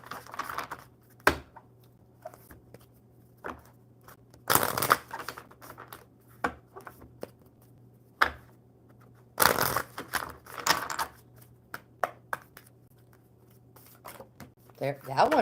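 An Earth Wisdom oracle card deck is shuffled in several brisk riffling bursts between quieter pauses, close and soft, with a person talking around the shuffles.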